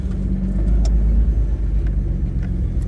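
Off-road truck driving a blue-rated trail between canyon walls at an adventure park, its engine a steady low rumble close by with rough road noise and a few faint knocks throughout.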